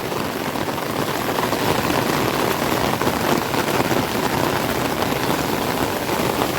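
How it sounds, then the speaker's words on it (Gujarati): Heavy monsoon rain lashes a flat rooftop terrace in Surat, a steady, loud, unbroken wash of drops striking the surface, with no talk. "મિત્રો તમે જોઈ શકો છો હોય ધાબા ઉપર વરસાદ આવે છે જુઓ"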